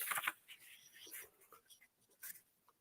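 Sheet of paper being creased and folded by hand for a paper snowflake, giving soft, close scrapes and rustles in several short bursts with quiet gaps, no talking.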